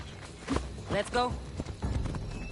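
Horse hooves clip-clop at a steady walking rhythm while riding in Assassin's Creed Odyssey, moderately close, with a voice speaking over the hoofbeats.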